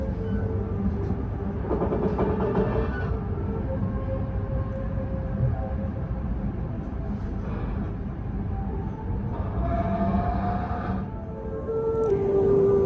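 The Menoreh passenger train rolls into Pekalongan station at night, a heavy low rumble of wheels and carriages with intermittent squealing brake tones, steady and close throughout.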